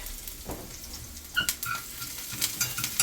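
Onions frying in a pan with a splash of oil, a steady close sizzle with a few sharper clinks and stirring scrapes partway through, no one talking.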